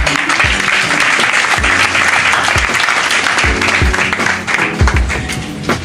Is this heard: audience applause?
yes